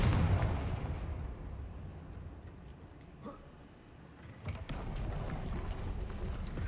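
The Confringo blasting spell in Hogwarts Legacy: a heavy booming blast opens with a rumbling decay, and a second explosive burst hits a few seconds later and rolls on.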